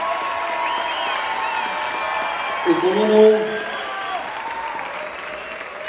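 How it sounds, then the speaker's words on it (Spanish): Audience applause and some cheering in a theatre during a dance festival, moderately loud and steady, with a voice speaking over it. "vamos a darles un fuerte aplauso a las agrupaciones"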